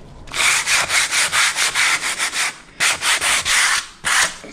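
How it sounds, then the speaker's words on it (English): Sandpaper rubbed by hand over a small hole, giving a close series of rhythmic scratchy strokes, about a dozen in a row, a short pause, then several more. "now use the sandpaper"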